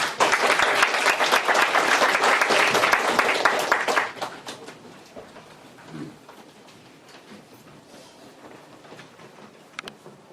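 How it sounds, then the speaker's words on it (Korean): Audience at a university philosophy colloquium applauds as the invited lecturer is welcomed to the front, loud dense clapping for about four seconds, then dying away to scattered claps and quiet room noise. "큰 박수 부탁드립니다."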